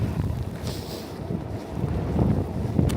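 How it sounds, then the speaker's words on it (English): Wind gusting through a New York City street during a blizzard, a broad rushing roar buffeting the microphone, steady for a few seconds and then swelling slightly louder, with no talking. "when the wind picks up, you can see sideways snow maybe on the camera"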